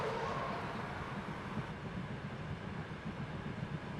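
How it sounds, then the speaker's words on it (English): A train in an Unreal Engine 5.7 game level rolls past as a faint, continuous rushing rumble with no distinct clicks, heard alone and distant. "Dude, the train is awesome."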